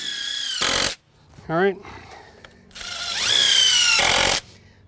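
A power drill driving screws into an old wooden deck frame, heard in short loud bursts of whirring separated by pauses, with brief speech in between.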